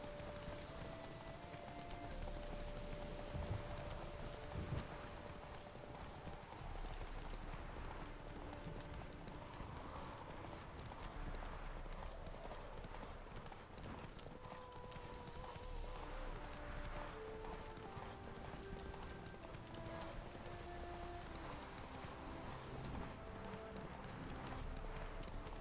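Roach, Geralt's horse in the video game Witcher 3, gallops with continuous rhythmic hoof clip-clops under game music and ambience, fairly faint throughout.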